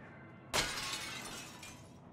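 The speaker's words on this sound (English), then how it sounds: "Don't break the glass." Glass shatters in Little Nightmares 2, one sudden loud crash followed by a bright tinkling spray of shards that fades over about a second and a half, with no talk.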